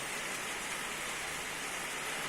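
Steady rain falls around a barn, a dense, even hiss without pauses, filling the space with no talking.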